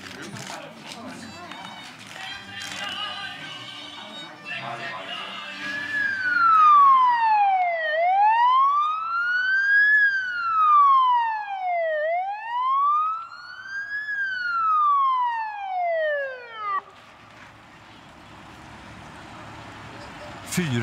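Police car sirens escort a king and queen's motorcade in Slovakia, the loud wailing siren sweeping up and down for several seconds over road noise before fading, with speech early on.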